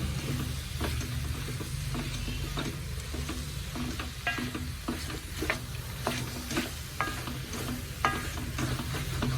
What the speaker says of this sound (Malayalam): തേങ്ങ ഒന്ന് വറുത്ത് പൊടിച്ചിടാം.